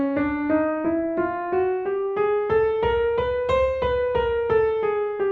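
A piano plays a chromatic scale, every semitone in steady succession, each note clearly struck and rising in pitch over about five seconds, close and solo with no talking.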